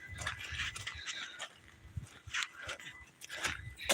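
Several dogs let outside near railroad tracks, with scattered barks, scuffling and movement in the open, fairly close and busy.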